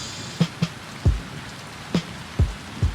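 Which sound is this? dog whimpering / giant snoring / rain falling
rain falling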